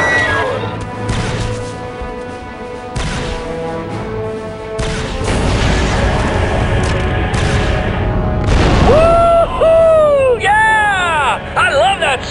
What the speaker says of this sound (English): my scanners show an explosion